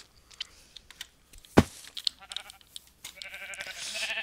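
Sheep bleating in Minecraft, with short nasal bleats scattered over soft keyboard typing and one sharp hit partway through.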